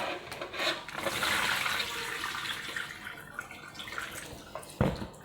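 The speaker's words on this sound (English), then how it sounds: "So again, add more warm water, stir that and drain off the water." Soaking water pours off a pot of brown beans in a continuous splashing rush, close and fairly loud, easing toward the end with a final splash.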